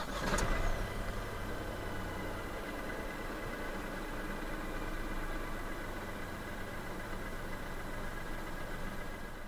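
A 2024 Proton S70 1.5T flagship sedan starts with a brief crank and catch, then settles into a steady, low idle hum that stays even and moderately quiet for the rest of the stretch.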